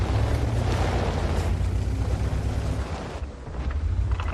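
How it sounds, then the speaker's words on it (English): Heavy rumbling blast from an enemy M12 artillery shell landing in World of Tanks, a broad loud roar sustained over several seconds with a dip and a brief resurgence near the end. "that was the enemy M12 just fired in"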